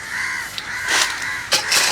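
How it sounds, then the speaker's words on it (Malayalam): Crows caw at a Kerala village home, a few harsh, fairly loud calls in quick succession close by, with no talking. "ഭയങ്കര കാക്കകളുടെ ശല്യം ചേട്ടാ. കാക്കകള് ഭയങ്കര ശല്യം."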